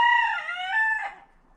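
A rooster at a chicken coop in rural southern Ontario gives a single loud, close crow lasting over a second, harmonic and rising then falling, before fading into quiet.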